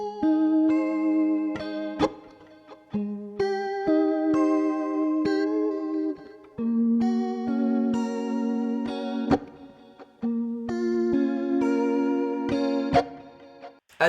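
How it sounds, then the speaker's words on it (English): Electric guitar with reverb and delay effects playing sustained chords and melodic lines, with a spacious, echoing wash trailing each note; steady and fairly loud, no voices. "So now our guitar sounds like this."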